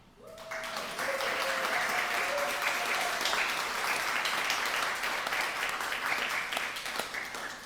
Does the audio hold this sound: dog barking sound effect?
no